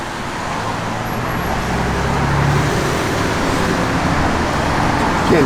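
A 1969 Pontiac Firebird Convertible drives along the road, giving a steady, close rumble of engine and tyre noise that swells slightly as it goes, with no one talking.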